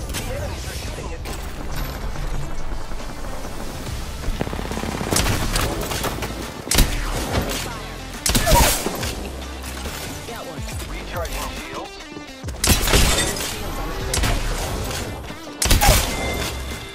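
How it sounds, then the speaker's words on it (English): Dense, loud enemy gunfire in Apex Legends, with rapid bursts, heavy thuds and impact cracks piling up continuously and sharper peaks of shots and hits throughout. "The enemies are shooting at me."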